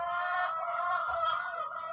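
Chickens cluck steadily at a farmhouse yard, a continuous close chorus of overlapping bird calls with no talking.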